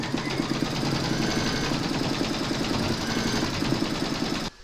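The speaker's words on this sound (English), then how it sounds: "Pop your hoop into your machine and stitch round number 2 to secure it." An embroidery machine stitches an outline through batting held in a hoop, its steady, rapid mechanical chatter running continuously and close before stopping abruptly at the end.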